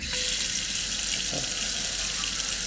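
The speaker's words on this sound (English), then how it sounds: "Let's fill it up with water" Water runs steadily from a tap into a cast iron pan, a constant hissing splash with a brief clink partway through.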